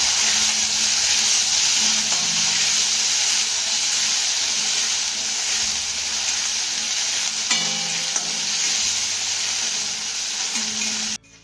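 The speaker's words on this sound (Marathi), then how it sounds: "आता ह्या बटाट्याच्या फोडी ना आपल्याला चांगल्या मऊसूत होईपर्यंत परतून घ्यायच्या" Potato pieces sautéing with cumin in a pan give off a steady, loud sizzle and frying hiss, with occasional stirring scrapes, continuous until an abrupt stop at the end.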